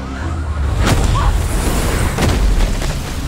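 A secondary explosion booms at a structural collapse site, heavy rumbling blasts with a couple of sharp bursts over a continuous loud roar.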